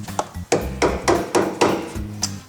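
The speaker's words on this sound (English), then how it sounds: "What I'm going to use my composition hammer and just drive it on there" A composition hammer drives a bearing buddy onto a boat trailer hub, with a series of sharp, close blows coming in an uneven rhythm and light ringing between them.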